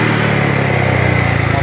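A Honda Vario 125 scooter engine idles up close with a rough-sounding CVT, a loud, steady putter with an even rapid pulse and no change in pace.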